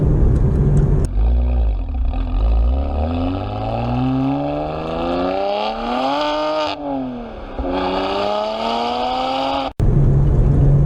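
A BMW 1 Series M engine in sport mode revs up through rising gears, loud and close, with a brief lift around the middle before pulling hard again.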